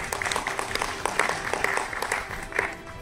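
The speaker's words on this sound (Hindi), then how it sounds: "आप लोगों से चाहूंगा तालियां बजा के इनका स्वागत करें।" Audience applause welcoming a young Uttar Pradesh state minister onto the stage at an Urdu poetry gathering and awards ceremony in Lucknow; steady, dense clapping from a crowd continues throughout.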